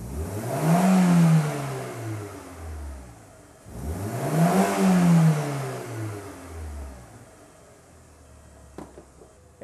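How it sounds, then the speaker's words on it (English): A car engine revs twice as the throttle is snapped wide open during a mass airflow test, each burst rising sharply then winding back down, followed by a quieter idle with a small clatter at the end. "So I'm going to go ahead and snap the throttle."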